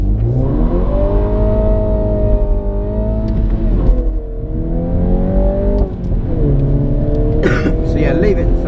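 A BMW pulls hard through third gear on the Goodwood track. The engine note climbs steadily in pitch, easing briefly before rising again, loud and close from inside the car.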